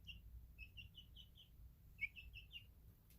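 A young chick chatters in a brooder with a run of small, high chirps in short bursts, faint against a low background rumble, one note a little louder near the middle.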